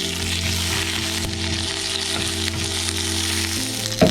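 Steady, loud sizzling of curry leaves and mustard seeds frying in hot coconut oil, with a constant crackle and a faint clink near the end.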